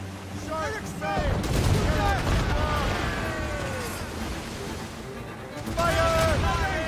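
Ship cannons boom in a rapid broadside in the naval combat of the video game Assassin's Creed Rogue, loud dense bursts layered over shouted voices and a music-like tonal bed, with a second heavy volley near the end.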